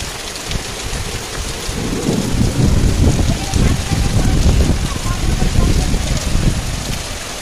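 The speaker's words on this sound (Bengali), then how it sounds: "চলে আসলো বৃষ্টি।" Heavy rain pours steadily and loudly throughout, with a low rumbling undertone that suggests distant thunder.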